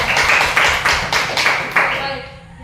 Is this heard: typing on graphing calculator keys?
no